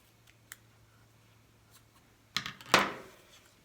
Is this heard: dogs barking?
no